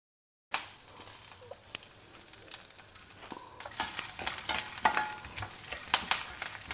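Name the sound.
peanuts and curry leaves stir-frying in a pan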